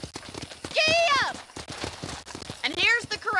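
A horse's hooves clip-clop at a steady gait in the video game Red Dead Redemption, near a ranch, with whinnying calls breaking through and a voice briefly heard over the hoofbeats.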